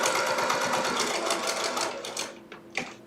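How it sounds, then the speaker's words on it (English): A sewing machine stitches quilt block pieces together in a fast continuous whir of needle strokes, close and loud, then slows and stops with a couple of short bursts at the end. "I'm just going to take one stitch And I'm going to put that right under the presser foot."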